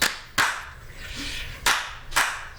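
Four sharp, separate hand claps ring out in a family film scene, where clapping switches the lights of a smart house on and off. The claps come in uneven pairs over a quiet background.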